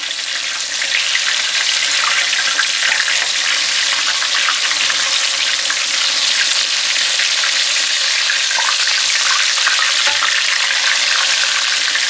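Breaded country fried steaks sizzle steadily in a hot pan of oil, a loud, close, continuous crackling hiss with no talking.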